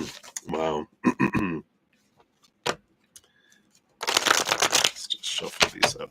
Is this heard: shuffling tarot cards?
yes